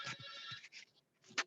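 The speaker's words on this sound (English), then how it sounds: "Hold on, I gotta take the phone." A phone ringtone plays in short electronic bursts, a few chirping tones with brief gaps, quiet and indoors with no talking.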